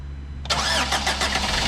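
Garden tractor mower engine cranking and catching about halfway through, then settling into a steady, close mid-pitched running note, with no voices over it.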